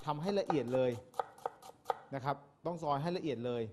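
Lemongrass for a hot and sour Thai prawn soup is chopped finely on a board, a handful of quick knife taps heard among a voice talking over most of the stretch.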